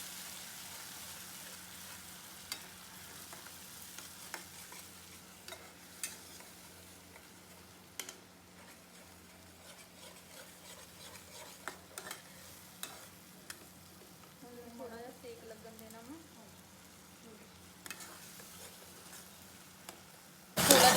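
Onion, tomato, ginger and garlic paste frying in a pan for shahi paneer, a quiet, steady sizzle broken by scattered scrapes and taps of stirring.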